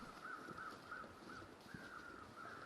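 Crows caw repeatedly in the snowy wilderness of the survival game The Long Dark, with a series of short, hoarse calls at an even pace, faint and distant over a soft background hiss.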